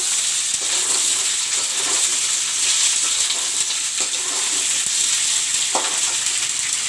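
Ivy gourd (kundru) goes into a pan of deeply browned onions, setting off a steady, even sizzle that holds throughout, with a few faint clinks of stirring and no talking.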